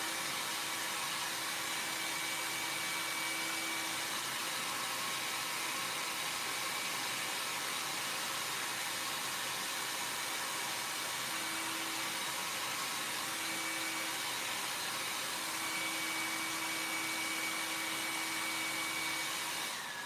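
A handheld hair dryer blows steadily on a candle stick, a constant loud whooshing roar that holds without a break for the whole stretch, with no voices over it.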